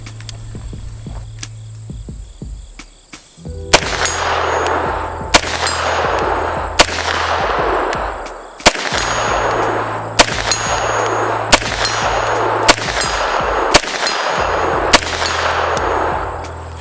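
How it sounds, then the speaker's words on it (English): Grand Power Stribog SP9A1 9mm carbine fired at a steel target 75 yards away: about nine loud shots spaced a second or two apart, each followed by a faint distant metallic ding of the steel plate, with crickets chirping in the background. "How about some 75-yard shots out of a little barrel like this with a very rough 0 on this optic?"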